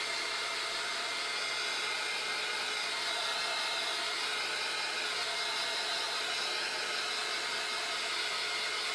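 A hair dryer blowing on shimmer paste applied to a vintage picture frame, a loud, continuous airy whoosh holding steady and close throughout.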